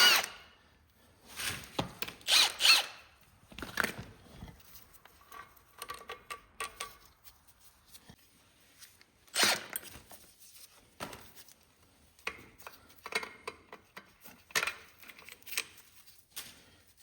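Wrench clicks and metallic taps as bolts are loosened during a Kubota diesel gear reduction starter install on a Super Cub Cadet 1782, coming in irregular bursts with quiet gaps, close and moderately loud.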